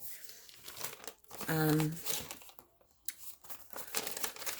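Crinkly, tearing sounds of paper ripped by hand in short bursts, with a brief hummed or tonal vocal sound in the middle.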